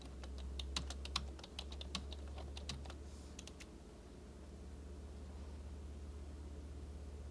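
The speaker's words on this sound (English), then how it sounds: "I heard you typing" Keystrokes on a computer keyboard clatter in a quick irregular burst for about three seconds, then stop, leaving a steady low hum and faint background noise.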